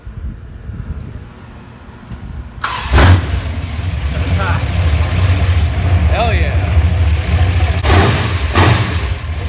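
A 1967 Dodge Coronet V8 cranks briefly, catches with a loud burst, then settles into a steady, rumbling idle with a few blips of revving, close by. A man cheers over the engine.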